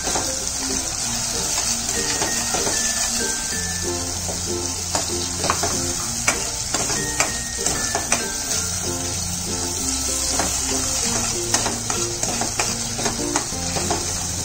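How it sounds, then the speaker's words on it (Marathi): Ground masala paste for a Koli-style halwa fish curry frying in oil, a steady loud sizzle with repeated scraping stirs of a spoon against the pan and a faint watery hiss throughout. "जेवढं आपण तेलावर भाजू ना वाटण, म्हणजे व्यवस्थित परतून घेतलं ना का त्याला कलर चांगला येतो रस्स्याला"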